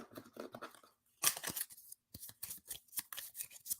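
Game cards shuffled by hand during a tabletop board game session, a quick run of crisp riffling bursts and rustles with short pauses between them, close and fairly quiet.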